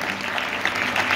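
A brief burst of audience applause at a municipal award ceremony, dense and steady clapping from a room full of people.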